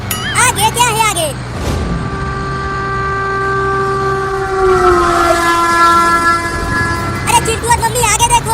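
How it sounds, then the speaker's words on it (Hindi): A cartoon train approaches along the railway line, sounding a long, steady horn that holds several tones for several seconds and swells louder midway, with rumbling rail noise and excited cartoon voices before and after. "इसी लाइन पर आगे से ट्रेन आ रही है"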